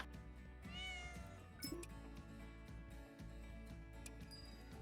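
Cats in Cat Cafe Manager meowing several times over a steady, faint background of game music, the meows light and short.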